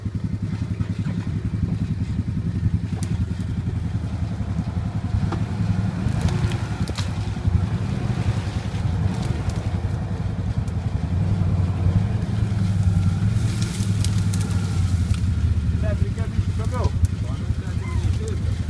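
An ATV engine drones and revs steadily while driving and towing outdoors, a loud continuous low rumble throughout, with people talking over it.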